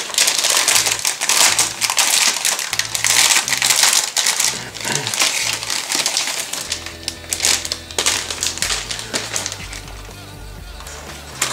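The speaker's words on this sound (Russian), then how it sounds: "Открываем пакет." Plastic bag holding the sprues of a 1:48 I-16 Type 28 Soviet fighter model kit being opened: loud, close crinkling and crackling of plastic that runs continuously, then eases into softer rustling and handling near the end.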